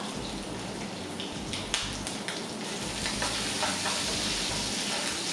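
Ginger and green chilli sizzle steadily in hot oil in a pan, a dense, continuous frying hiss with small crackles throughout and no talking.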